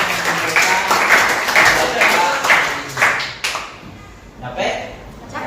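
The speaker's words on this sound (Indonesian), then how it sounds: "tepuk tangan untuk Anissa." A classroom applauds a student named Anissa at the end of a mathematics lesson, with scattered hand claps that fade over a few seconds while people chatter.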